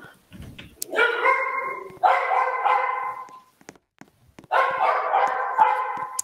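A small dog lets out three drawn-out, yelping barks close by, separated by short pauses filled with faint clicks and shuffling, and no one speaks.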